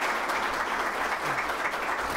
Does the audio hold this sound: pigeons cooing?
no